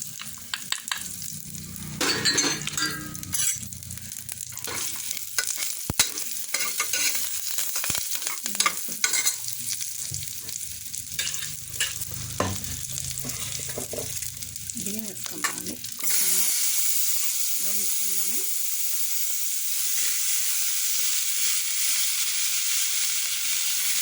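Green chillies, cumin and pepper powder sizzling in hot oil in a pan for green gram pongal, with steady frying hiss and frequent stirring scrapes, then a louder even sizzle near the end.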